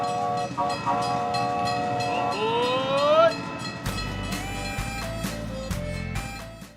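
A cartoon-style train sound effect with a rising whistle toot midway, then a deeper horn blast and rolling rumble, loud and steady throughout.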